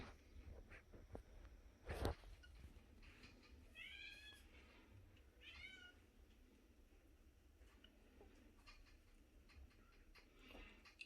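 A cat meows a few times at a closed door, wanting into the room, during a western hognose snake feeding; short, fairly faint calls over quiet room noise with a sharp knock or bump before them.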